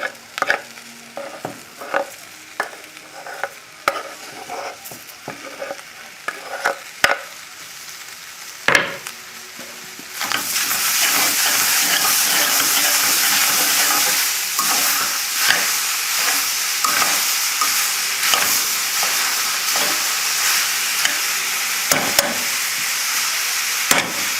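Pork hock with tomato, bay leaf and thyme is stirred in a pot: a spoon knocks and scrapes in repeated close strokes, then a loud, steady sizzling hiss takes over and continues under further stirring.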